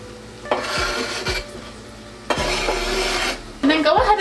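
Minced garlic stirred in a skillet for a chili dinner, giving three bursts of scraping, clinking utensil strokes against the pan over a low steady hum, fairly close and moderately loud.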